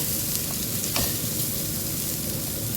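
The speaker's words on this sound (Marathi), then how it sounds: "तर अशा प्रकारे आपल्याला मसाला भाजून घ्यायचा आहे तेलामध्ये" Spice masala roasting in oil in a pan for a Konkani-style bhogi vegetable dish, giving a loud, steady close-up sizzle with a couple of brief stirring scrapes.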